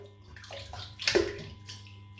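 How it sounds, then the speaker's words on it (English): Water sloshes and splashes briefly in a basin of hot water as a shaving brush soaks, with a sharper splash in the middle and quiet dripping around it. "Just give that a soak in the hot water here."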